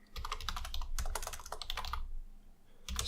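Fingers type a code comment on a computer keyboard, a quick close run of clicking keystrokes with a short pause before the tapping resumes.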